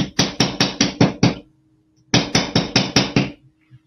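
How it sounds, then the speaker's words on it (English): Metal hammer striking jewelry wire flat on a hard block, two quick bursts of about six sharp, evenly spaced close taps each, separated by a brief pause. "I'm going to start out by just separating these just a tad and hammering them flat."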